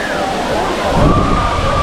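Waterfall at Old Courtallam, a rocky cascade, pouring in a steady broadband rush of falling water that swells slightly toward the end, with a voice speaking over it.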